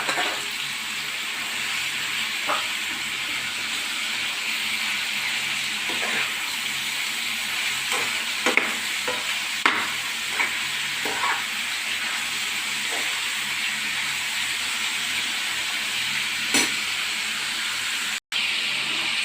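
Green chillies and garlic fry for dum biryani, giving a steady loud sizzling hiss with a few scattered pops and clicks throughout.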